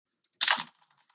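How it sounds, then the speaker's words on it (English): A brief burst of typing on a computer keyboard, with a few quick, close keystrokes clustered together and then fading into faint scattered taps in an otherwise quiet room. "typing away"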